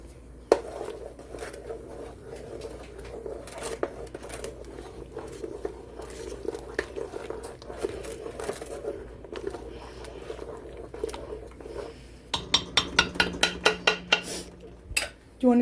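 Meatball mixture for albóndigas being mixed in a bowl makes soft, steady squelching and patting sounds close by. Sharper clinks and knocks against the bowl follow near the end.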